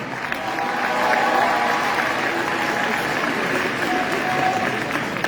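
A French-speaking audience claps in sustained, even applause for performers at a live event, dense and fairly loud throughout with faint crowd murmur.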